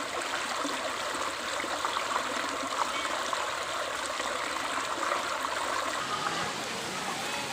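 Steady rushing water fills the scene, a dense continuous roar of the Chantathen waterfall in Thailand nearby, with no pauses.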